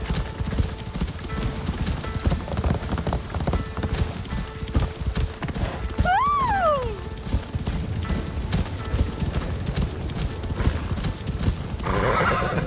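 Horses galloping in the Assassin's Creed Shadows video game, a dense drumming of hooves running throughout with a loud, clear whinny at mid-clip, close and prominent.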